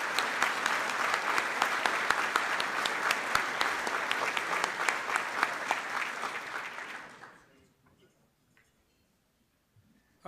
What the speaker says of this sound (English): Please, one more round of applause for your judges.